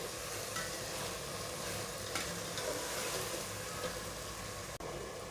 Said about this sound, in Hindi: ये अदरक लहसुन का ये सारा कुछ जो है थोड़ा सा इनको भूनेंगे